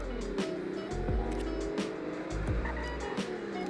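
A fast car launching on a 0 to 60 run, its engine droning loud and close with repeated rising revs and quick drops at each gear change, with brief talk over it.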